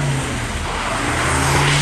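Mercedes-AMG car on a rainy race track in Karachi, its engine holding a loud, steady, close drone as it readies for donuts.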